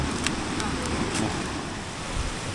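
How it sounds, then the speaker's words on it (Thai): Tat Hia Kham waterfall in a forest near Mahaxay sends up a steady, close rushing roar of falling water that stays even throughout. "นี่แหละพี่น้องน้ำตกตาดเฮียคำ"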